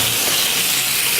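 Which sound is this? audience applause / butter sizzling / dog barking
butter sizzling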